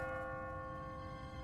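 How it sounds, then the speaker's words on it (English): Automatic church bell in the video game The Walking Dead, a steady ringing tone with sustained overtones that holds at an even, moderately loud level throughout, with no voices over it. "What kind of church bell goes off at 20 past the hour?"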